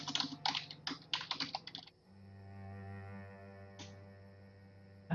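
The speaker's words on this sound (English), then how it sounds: "let me just type it in here" Fast, close typing on a computer keyboard, a quick run of crisp key clicks lasting about two seconds, then a quiet hum with one more click near the end.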